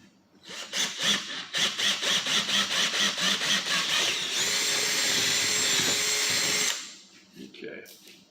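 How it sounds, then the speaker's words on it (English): A power drill boring a 3/4 inch hole in the center of a fastener plate, loud and close, starting in rapid pulsing bursts and then running as a steady high whine for a few seconds before stopping. "let's get our 3/4 inch hole drilled here in the center"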